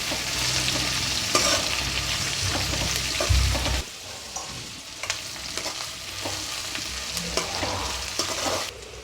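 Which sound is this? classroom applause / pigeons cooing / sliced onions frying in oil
sliced onions frying in oil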